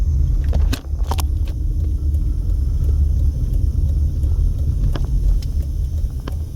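Cross traffic on a Las Vegas street near Nellis Boulevard: cars rumble and roar past close by, a steady loud drone of tyres and engines for several seconds, with a few sharp clicks and clatters near the start.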